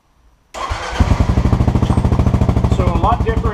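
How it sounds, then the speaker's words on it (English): A 2015 Kawasaki KLR 650 motorcycle fitted with a Lexx exhaust starts after a brief crank, then settles into a loud, close, lumpy single-cylinder idle with a steady pulsing beat. "Let's fire up the bike."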